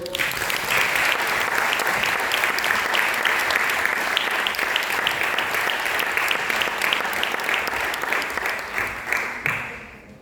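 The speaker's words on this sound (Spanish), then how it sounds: "Un aplauso, por favor." An audience at a summer science lecture series in 2023 applauds to welcome a speaker, a steady, dense wash of many hands clapping that holds for about nine seconds before tapering off near the end.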